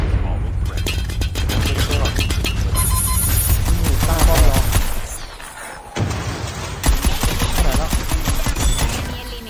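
Loud, dense gunfire from Call of Duty: Mobile, rapid overlapping shots and bursts pounding almost without pause, easing briefly midway before resuming.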